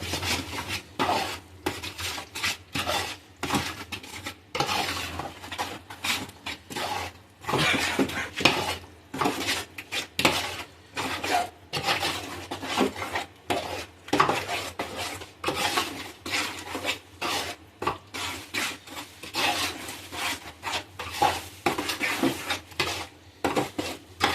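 Spices and mutton biryani ingredients being stirred in a metal pot, with a continuous scraping and clinking of a spoon against the pot in uneven strokes, close and fairly loud.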